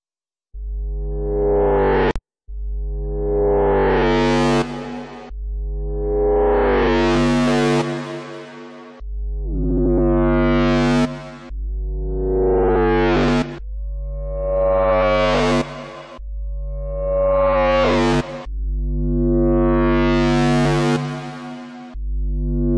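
A drum and bass synth patch built in Serum with reverb added, a series of about nine sustained tonal hits with deep bass and bright harmonics, each swelling then cut off, loud and alone.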